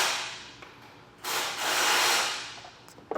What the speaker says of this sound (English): I'll take that bolt out and just slip our ring terminal over it